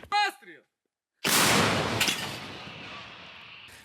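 A short voice at the start, a pause, then one loud, sharp artillery boom that rolls out into a long fading rumble, on a front line near Pokrovsk, Ukraine.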